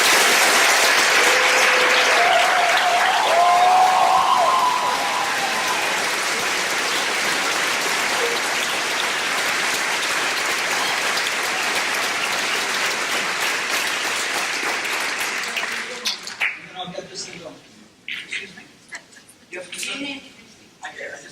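An audience at a 2014 mayoral debate applauds a candidate's introduction, loud sustained clapping for about fifteen seconds that then thins out into scattered sounds and talking.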